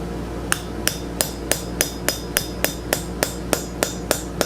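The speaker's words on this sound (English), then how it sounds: "I'm kind of tilting my hammer back ever so slightly to get it come up into that corner" A small chasing hammer taps metal in a steady, even rhythm while shaping a door knocker, about a dozen sharp light strikes close by, with no talking.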